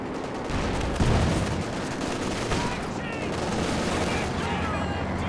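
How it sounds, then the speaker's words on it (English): Anti-tank guns fire on a Jagdpanzer tank in a Company of Heroes 2 1v1 battle, a dense, continuous din of overlapping shots and blasts with a sharper crack near the start. "Jagdpanzer's taking some shots from the AAT guns"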